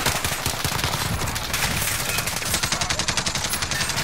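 Grau 5.56 assault rifle fire in a first-person shooter game, rapid repeated automatic bursts with a steady crackling rhythm, fairly close and continuous throughout, no talking.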